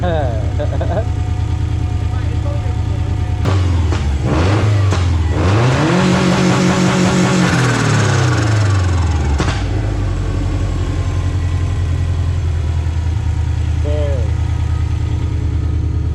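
A 2005 Subaru STI engine on new Mugen mounts revs hard up to about 7,000 RPM, rising and then falling, before settling into a steady idle. The engine is loud and close, and people talk around it.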